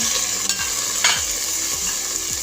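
Chicken breast hitting a pot of hot oil for creamy sopas, giving a steady close sizzle with soft stirring scrapes and small clinks throughout, no voices.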